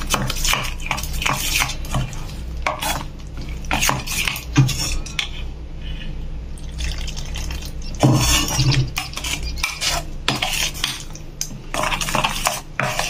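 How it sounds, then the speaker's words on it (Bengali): Mango kasundi being mixed with warm water in a bowl, busy repeated clinks and scrapes of a spoon against the dish throughout, close and fairly loud. "এবার এর মধ্যে আমরা অল্প গরম জল দেব, দিয়ে এটাকে মেশাবো।"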